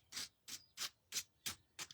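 Rhythmic back-and-forth sanding strokes, about six evenly spaced gritty rasps, quiet and close with no talking.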